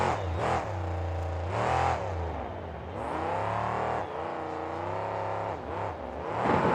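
At a 2007 KORR Monsters show in Tacoma, Washington, the monster truck Reckless Red revs its engine loudly and repeatedly, pitch rising and falling in surges.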